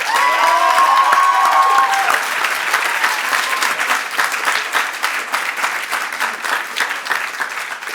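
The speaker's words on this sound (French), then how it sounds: "Mais on peut aussi applaudir très fort Yad" A large audience at a student debate prize ceremony claps loudly for a middle-school speaker, dense sustained applause with some cheering and a short voice near the start.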